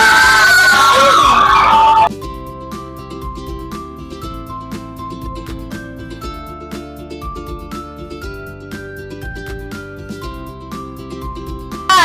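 A short burst of loud classroom cheering and shrieks for a student group lasts about two seconds, then cuts abruptly to steady music.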